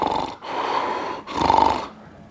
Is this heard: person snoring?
yes